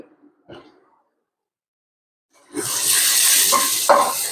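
Onions frying in a pan with turmeric and salt, a brief throat-like noise and silence first, then a close, steady sizzle starts partway through with a couple of stirring scrapes.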